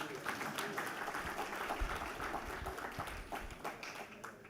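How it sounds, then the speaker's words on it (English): An audience at a lecture on the middle income technology trap claps together, a soft, fairly distant patter of many hands that holds steady and then fades, with a voice faintly under it. "Another round of applause, please."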